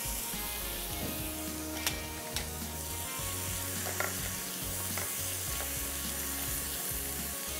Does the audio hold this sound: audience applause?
no